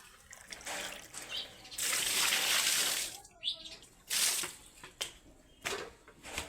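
Water splashes and trickles in uneven bursts as it is poured from a container for goats to drink, with pauses between pours and faint background sounds.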